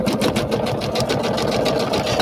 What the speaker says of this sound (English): I'll put it down and sew it